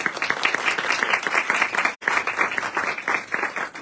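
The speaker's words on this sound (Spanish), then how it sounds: "para que pida un aplauso." Applause from an audience at a Puerto Rican literary talk on crime fiction, dense steady clapping with a brief dip midway before resuming.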